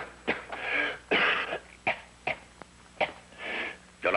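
A man with a persistent cough gives several short, sharp coughs and throat-clearing bursts in an irregular rhythm, close and fairly quiet, with no talking.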